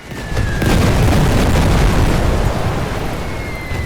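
Grenades detonate in a World War I battle in The Great War 6.0 during a Ruhr assault: a loud, dense, rumbling blast wave that swells quickly and rolls on for several seconds before fading slightly.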